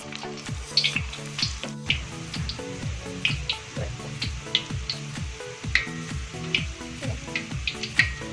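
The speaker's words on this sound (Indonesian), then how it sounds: "saya masukkan atau saya gorengkan bawang merahnya dulu sebentar" Shallots fry in hot oil as a preliminary step in making banana chips, giving a soft, steady sizzle with small crackling pops, all fairly quiet and close.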